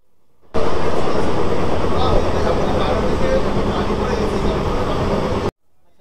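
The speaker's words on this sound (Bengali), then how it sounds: "ইছাপুরে যখন ক্রস করছে ট্রেনের স্পিড দেখো 105-6, মানে বেশ কিন্তু জোরে যাচ্ছে ট্রেনটা" An AC local train on the Sealdah–Ranaghat line near Kolkata speeds past Ichapur at around 105 km/h, producing a loud, continuous rumbling roar that starts abruptly, holds steady for about five seconds, then cuts off.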